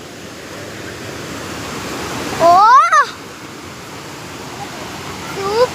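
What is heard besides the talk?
water flowing at Meen Mutti waterfall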